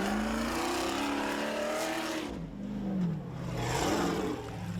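Rear-engine 4x4 truck with four-wheel steering in an off-road challenge course, its engine loud and close, revving and rising and falling in pitch as it climbs and moves across rough ground, with no voices.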